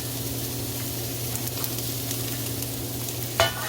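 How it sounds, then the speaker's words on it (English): Onions for chop suey fry over medium heat in a pan, a steady close sizzle with soft stirring, and a sharp scrape of the utensil near the end; no talking. "And I'm going to stir it around a little bit."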